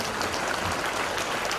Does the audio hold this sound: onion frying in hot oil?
no